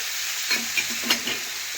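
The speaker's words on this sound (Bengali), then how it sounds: "এটাও ভালোভাবে মিশিয়ে একটু কষে নেব" Ginger, cumin and green chili paste frying with greens and fish head in a pan, a steady close sizzle broken by a few soft scraping stirs.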